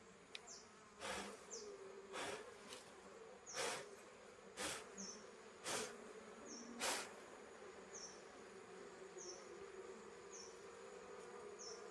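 Honey bees swarm around a hive as they are moved onto frames, giving a steady, faint buzz close by, broken by a few sharp knocks and passing louder hums.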